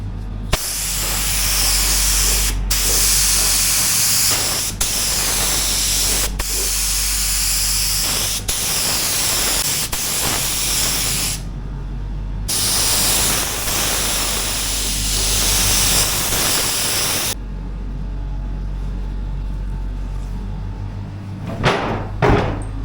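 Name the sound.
spray painting BMW e30 car body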